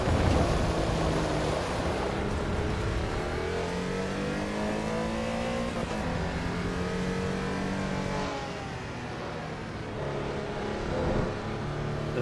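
A Porsche race car in the AC EVO racing game, its engine droning steadily with rising and falling revs as it drives, loud and continuous throughout with no voices.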